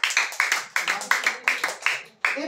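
A church congregation claps for the Lord in steady rhythmic bursts, roughly five or six claps per second, loud and close, with some voices murmuring underneath.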